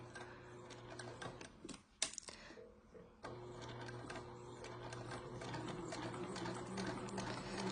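A sewing machine stitching a small zipper bag of printed vinyl, a steady fast mechanical whir with a brief pause and clunk partway through, then running on continuously, close and moderately quiet.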